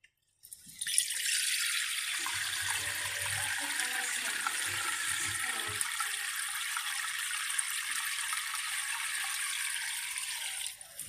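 Water running from a tap to fill a container for mung bean soup, a steady close hiss that starts abruptly and flows without a break until it cuts off near the end.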